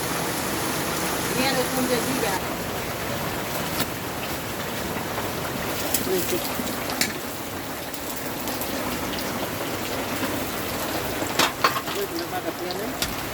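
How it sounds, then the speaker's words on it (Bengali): Heavy rain pours down outside in a village, a dense continuous hiss with scattered drops and splashes; a voice speaks briefly over it. "এই দেখো কি প্রচন্ড বৃষ্টি হচ্ছে বাইরে"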